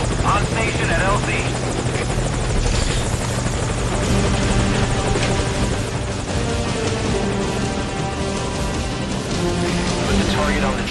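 Helicopter from Metal Gear Solid V: The Phantom Pain hovering at a landing zone, a loud steady rotor drone with engine whine throughout, under radio-style voices talking.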